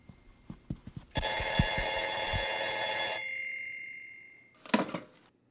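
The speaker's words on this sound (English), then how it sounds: "someone's calling me on the telephone machine." A telephone bell rings loudly in one long sustained peal, followed a moment later by a shorter second ring, after a few soft clicks and taps.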